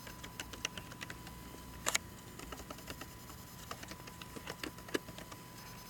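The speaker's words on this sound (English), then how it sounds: "so I'm going to go ahead and type those in." Username and password being typed on a computer keyboard, a quiet run of light, irregular key clicks with one sharper cluster of presses, heard close and alone.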